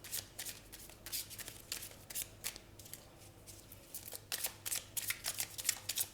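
Tarot cards being shuffled up close, a quiet run of repeated riffling flicks and soft slaps in quick irregular bursts over faint background hum.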